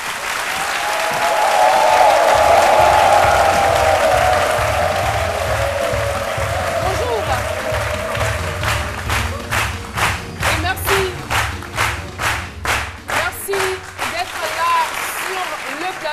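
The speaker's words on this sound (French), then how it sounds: "Je souhaiterais qu'on applaudisse très fort M. Jean-Philippe Odoli" A studio audience on an Abidjan television talk show applauds a guest, a steady wash of clapping that gives way to sharper, rhythmic unison claps toward the end, over a low droning music bed.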